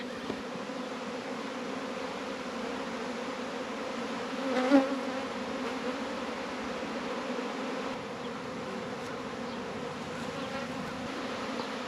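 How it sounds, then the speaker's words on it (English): A dense, steady buzzing of a honeybee swarm fills the air throughout, a constant droning hum with no talking. "There's also a lot of bees in the air. So I think there's actually a secondary swarm going on."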